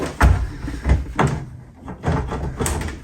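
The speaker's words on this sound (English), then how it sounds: "Last drawer. Last drawer. Going in." During a home cabinet installation a drawer is pushed into its cabinet with several sliding rumbles and knocking thuds, uneven and close, as it is worked into place.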